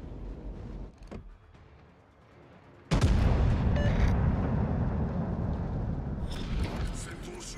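World of Warships naval guns fire in a sudden, loud salvo that sets off a long, thick rumble after a quieter stretch, with a person talking over the game.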